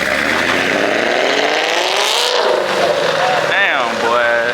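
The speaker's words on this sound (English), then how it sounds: "Them muffler deletes go crazy." At a car meet, a car with a muffler delete revs loudly and close by. Its raw engine note climbs and falls in several sweeps while people talk nearby.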